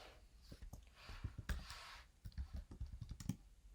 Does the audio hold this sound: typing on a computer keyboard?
yes